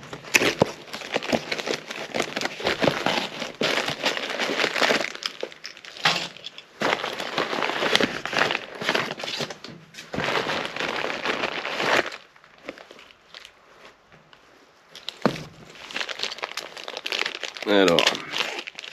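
Close crinkling and crumpling of packaging as a box of LEGO parts is unboxed comes in bursts, with sharp tearing and rustling of strong tape between pauses, and a voice talking intermittently.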